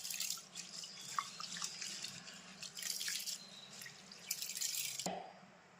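Rice and lentils are rinsed in water for adai dosa batter, with steady splashing, trickling and dripping close by in a kitchen, continuous throughout with small sloshes, no talking.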